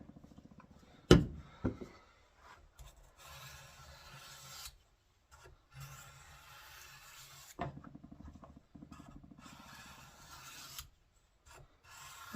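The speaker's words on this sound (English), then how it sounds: "Okay, so we're ready for the fine stone here. Get it worked down in there good. A little oil on there." Steel knife blade stroked across a fine sharpening stone coated with a little oil, giving repeated soft raspy scrapes in uneven bursts separated by short silences, with a sharp knock near the start.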